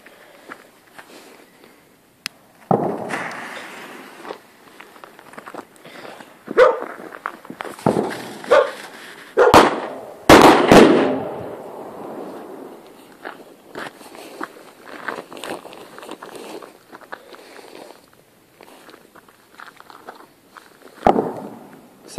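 Firecrackers explode on New Year's Eve outdoors, with several sharp loud bangs and crackling bursts scattered irregularly, some near and some fainter in the distance, plus a few dog barks in between.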